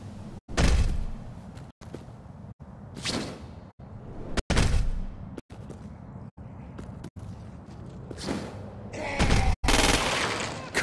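Gunfire from the Crackdown 2 video game as the player shoots at a freak: heavy booming shots and bursts come in irregular clusters, some sharp and loud, with whooshing and thudding effects between them.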